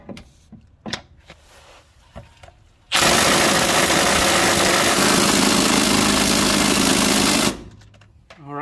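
A Milwaukee cordless impact wrench hammers hard on a bolt in a V6 3.5L Honda engine for a sustained burst of about five seconds, loud and close, framed by quieter clicks and handling noises before and after.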